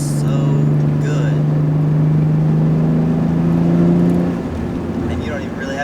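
A 1991 Nissan 300ZX takes a corner, its engine holding a steady hum that rises slightly before dropping away, with wind and road noise around it.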